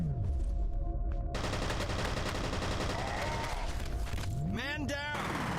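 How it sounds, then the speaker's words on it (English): SMG fire in F.E.A.R. rattles out in rapid, sustained bursts, loud and close, mixed with impacts and debris, while a person talks over the gunfire. "Alright, we're back to using the SMG."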